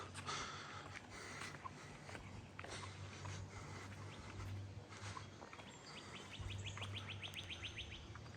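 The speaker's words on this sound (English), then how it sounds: "I hear a northern cardinal up that way." Northern cardinal singing outdoors in a quiet yard, a quick run of bright repeated whistled notes from off to one side, with other distant bird calls and a steady far-off cicada-like drone underneath.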